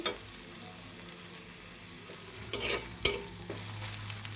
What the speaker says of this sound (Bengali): সরিষা দিয়ে একটু কিছুক্ষণ ভেজে নিয়েছি